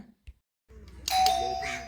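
An electric calling bell just fixed and switched on at home rings out after a brief quiet with a couple of small clicks, sounding a sustained bright electronic tone close to the microphone.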